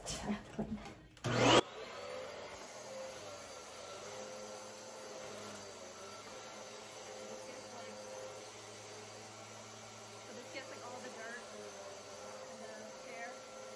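Vacuum cleaner running continuously inside a rabbit room and cage with hay, a loud steady whine after a brief burst of handling noise at the start, close up and uninterrupted.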